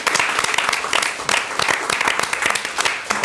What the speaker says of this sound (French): Donc, on l'applaudit bien fort.